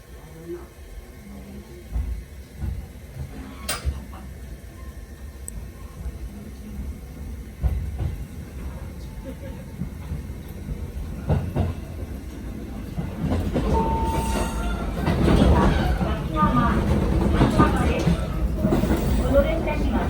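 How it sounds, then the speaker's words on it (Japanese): A local passenger train pulls out of Sekigawa station, starting with quiet rumbling and scattered clicks, then swelling into louder, steady rolling and rail clatter as it gathers speed. "関川駅を発車しました。"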